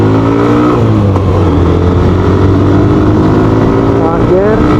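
A TVS Xtreme 125R motorcycle engine accelerating through the gears toward about 7000 RPM, a loud steady buzzing drone with rising pitch, heard up close while a rider talks.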